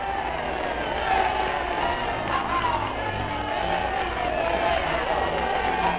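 A dense crowd of many thousands cheers and roars on V-E Day in a grainy 16mm newsreel recording, a continuous muffled wash of voices with occasional swells, distant and steady throughout.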